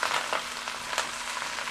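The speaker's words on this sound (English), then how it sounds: "there should be immediately a sizzle sound" Vegetables sizzle as they are stir-fried in a hot wok, a short burst of bright, crackling hiss that stays even throughout.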